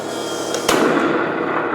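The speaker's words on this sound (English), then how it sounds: "So that's the cannon." A Heng Long Russian T-90 RC model tank fires its cannon with no BBs loaded, giving one sharp, close pop over a steady background hiss.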